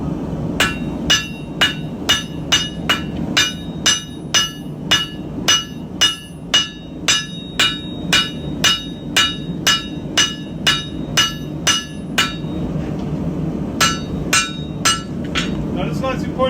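A hammer forges an iron guard for a knife, ringing out in a steady run of about thirty sharp, evenly spaced blows, loud and close over a low background rumble.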